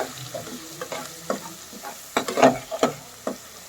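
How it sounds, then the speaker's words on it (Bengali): Spice paste for chicken roast is stir-fried in a pan, giving irregular scraping stirs and clinks of a utensil over a light sizzle, with a cluster of louder strokes midway and no talking. "এখন মশলাটা ভালোভাবে কষিয়ে নেব"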